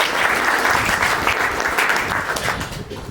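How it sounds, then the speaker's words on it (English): An audience at a museum exhibition opening in New Orleans applauds, a loud, dense round of clapping that holds steady before tapering off toward the end. "Let's give them a round of applause."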